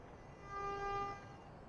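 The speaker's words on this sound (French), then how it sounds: "il y a des klaxons à tout va" A single faint car horn sounds in the distance, one sustained honk of under a second over quiet street background, from the video game Assassin's Creed II, set in Florence.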